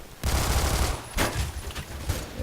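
Bursts of rapid automatic pistol fire from a Glock 18 in the video game Phantom Forces, loud and close, in two or three sustained volleys with no speech.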